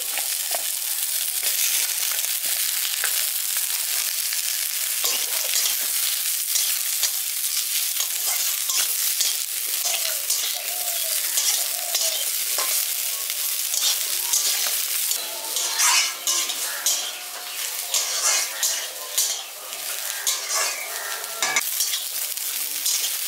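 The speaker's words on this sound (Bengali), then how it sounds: "কপিগুলো আর আলুগুলো আমি লালচে করে ভেজে নিয়েছি। এবার আমি এতে শিম দিয়ে দিচ্ছি।" Flat beans fry with browned cauliflower and potatoes in a pan, a steady close sizzle broken by frequent scraping stirs and crackles, growing busier toward the end.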